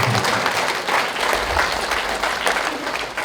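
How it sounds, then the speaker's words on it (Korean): Steady audience applause fills a community meeting hall during a residents' forum on apartment reconstruction versus remodeling, the clapping dense and continuous for the whole stretch at fairly close range. "박수로 맞이해 주시기 바랍니다."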